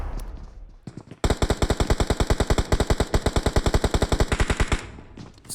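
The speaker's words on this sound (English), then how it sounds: "as Lucifer goes down to that mini 14 shot from Team OP's player." Rapid automatic gunfire from PUBG Mobile during a custom-room esports match, a steady run of about thirty loud, evenly spaced shots lasting roughly three and a half seconds with a single shot just before, heard alone without commentary.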